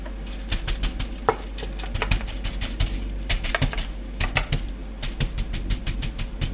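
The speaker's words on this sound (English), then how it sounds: "You don't have to, go overboard in pounding it out." Chicken breast being pounded out, a quick string of sharp tapping thuds in loose bursts with short pauses, close and fairly light.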